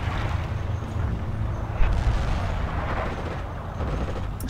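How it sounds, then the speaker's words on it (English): Machine gun fire in Forgotten Hope 2 during a trench fight, a steady rumble of heavy bursts with a sharper crack partway through, loud and close. "Stop machine gunning me"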